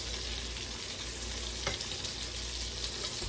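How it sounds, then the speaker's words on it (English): Chicken coated in egg batter fries in a pan, producing a steady, dense sizzle and crackle throughout, close and moderately loud, with no talking. "chicken going into the pan is going to help keep the pan cool. It's not going to burn so quickly."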